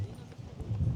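Horse hooves pound the ground in a fast, uneven clip-clop during a tent pegging run, loud and low against background noise.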